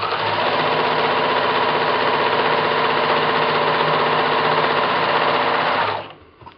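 A sewing machine stitches through paper with a steady, close mechanical whir that runs unbroken for about six seconds, then stops abruptly. No one speaks.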